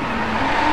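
Tires of a Nissan 370Z Nismo squeal as the car drifts sideways in the Driveclub racing game, a sustained screech over the steady engine drone, loud and close with no talking.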